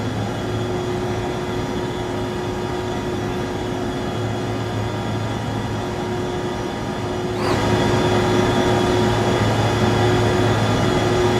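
Steady roar of a BAe 146-300's jet engines as heard from the rear cabin in the X-Plane 11 flight simulator, a constant drone with a whining hum that grows louder partway through and holds, with no talking.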